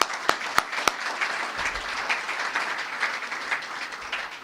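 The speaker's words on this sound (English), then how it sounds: "give you all a round of applause for being graduates of Hofstra University" Applause from a banquet audience honoring Hofstra University graduates at a student-athlete awards event, a steady crowd clapping wash with a few sharp, close claps near the start, sustained and even throughout.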